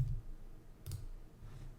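Key presses on a computer keyboard, a few quiet clicks with one sharper tap near the middle and soft taps around it, close and faint with no talking.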